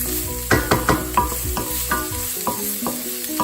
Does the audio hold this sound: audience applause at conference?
no